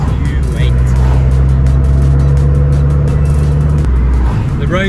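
Abarth 595 with a Garrett turbo accelerating on wet roads, a loud droning engine note rising in pitch from inside the car, then easing off near the end.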